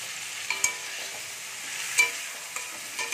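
Spice paste of cumin, coriander, turmeric and red chili powders mixed with water frying in a pan, a soft steady sizzle with a few distinct stirring scrapes and taps, close and fairly quiet, no talking.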